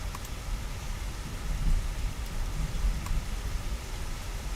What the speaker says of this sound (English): Rain's starting to come down now.